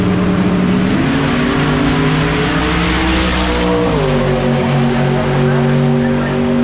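A 1970 Chevy Nova drag car with an all-block Mopar-style power-adder engine at Drag Week, loud sustained engine roar rising in pitch as it launches, with tire noise and no talk.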